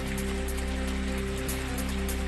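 Heavy monsoon rain pours steadily in the Chalisgaon area of Jalgaon, a dense continuous hiss of falling water over a low steady hum, with no voices.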